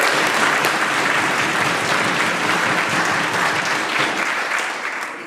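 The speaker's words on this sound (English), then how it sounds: "I'd ask the House to please join me in cheering on our Prince George Cougars tonight." Legislature members in the House chamber applaud and cheer for a junior hockey team, a dense, steady clapping that fills the room for several seconds and tapers slightly at the end.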